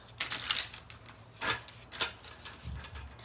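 Cards are shuffled close by in several rustling bursts with brief sharp riffles, a soft papery clatter with no voices.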